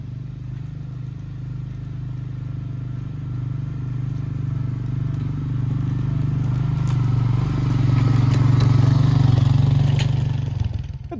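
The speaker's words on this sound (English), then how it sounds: "I'm going to hook the spreader up to my four-wheeler, and I'm going to head off" A four-wheeler ATV engine drones steadily while pulling a fertilizer spreader across a food plot, a close, continuous hum that gradually swells louder with light clattering.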